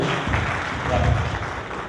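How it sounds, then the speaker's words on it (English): Audience applause after a presentation, a short, dense stretch of clapping with some low thumps mixed in, steady and fairly loud throughout. "A big round of applause."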